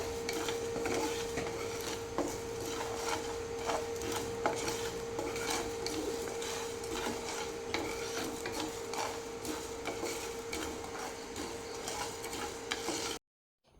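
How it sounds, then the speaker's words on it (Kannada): Coriander seeds and cumin fry in a pan, heard as continuous close stirring and scraping of a spoon against the pan over a faint sizzle, with a steady tone running beneath; no talk. "ಜೀರಿಗೆ ಸ್ವಲ್ಪ ಬೇಗನೆ ಫ್ರೈ ಆಗೋದ್ರಿಂದ ಈ ಕೊತ್ತಂಬರಿ ಜೊತೆಗೇ ನಾನು ಹಾಕಿ ಫ್ರೈ ಮಾಡ್ತೇನೆ"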